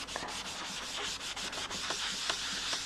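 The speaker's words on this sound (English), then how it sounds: "I've got my sponges and my ink here, and I'm going to start with some Wisteria Wonder, and I'm just going to rub over the surface." An ink sponge loaded with Wisteria Wonder ink rubs over a card surface while a Stampin' Up! snowflakes card is being made; a continuous close, soft scrubbing of rhythmic back-and-forth strokes with no speech.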